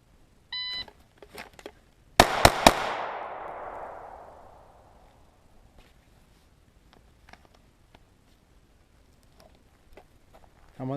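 During a pistol live-fire drill drawing from concealment, a shot timer beeps once. About a second and a half later come three rapid, loud pistol shots with a long ringing decay, followed by faint clicks and handling noise.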